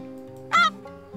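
A single short goose honk rings out from the hunting game Way of the Hunter over a steady low droning game ambience, clear and fairly close.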